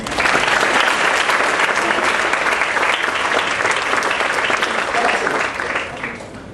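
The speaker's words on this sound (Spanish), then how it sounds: "Aplausos para ustedes" A room of accounting students at a soft-skills talk breaks into loud, sustained applause. The dense clapping holds steady before fading toward the end, with a few voices mixed in.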